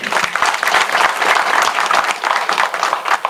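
A crowd applauding warmly at an inauguration ceremony, dense sustained clapping throughout, fairly loud and close, with no one speaking over it.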